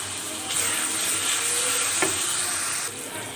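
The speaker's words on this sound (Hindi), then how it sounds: "इसमें हम तमाम मसाला जात ऐड करेंगे और अच्छी तरह से मिक्स करेंगे मसाला जात को" Sautéed garlic and spices stirred in a hot pan for chicken wings karahi, a steady close sizzle with scraping stir strokes and a sharper clink near the middle, no voices.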